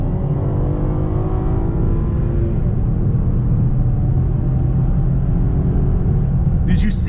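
A 2019 Cadillac XTS with a 3.6-litre V6 in sport mode pulls hard at full throttle, a loud, steady engine rumble with rising harmonics building continuously throughout.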